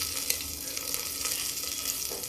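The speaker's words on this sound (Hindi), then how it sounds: "उड़द और चने की दाल जब चिटकने लगे थोड़ा थोड़ा" Urad and chana dal fry in a pan with a continuous close sizzle and fine crackling pops throughout.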